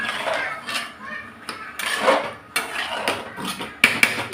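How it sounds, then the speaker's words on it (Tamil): A spoon stirring one-pot rice in a metal cooking pot, with irregular scraping and clanking strokes, close and moderately loud, and no talk. "இப்போ இதுலேயே நம்ம கிளறி வச்சுக்கிடலாம்."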